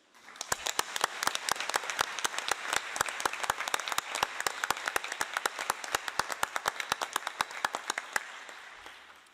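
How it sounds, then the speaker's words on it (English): An assembly hall at a UN-Habitat closing ceremony fills with steady, sustained applause for a committee, many hands clapping evenly for about eight seconds before tapering off, with no talking over it. "I want all of us to applaud this committee."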